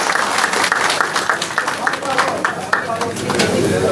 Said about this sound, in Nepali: कृपया सबैले ताली बजाइदिनु होला